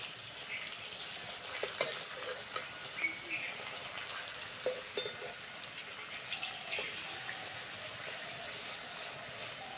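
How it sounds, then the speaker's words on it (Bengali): Potato fritters (aloo bora) frying in hot oil, a steady broadband crackle with scattered sharper pops, moderately close and fairly quiet, no voices. "আলুর বড়া একটু কড়া করে ভাজতে হয়"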